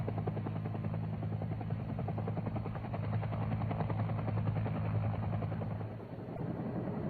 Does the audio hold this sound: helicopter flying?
yes